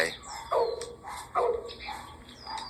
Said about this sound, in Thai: น้องหมาจ่า เห่ามาให้กำลังใจ